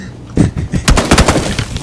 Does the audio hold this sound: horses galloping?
no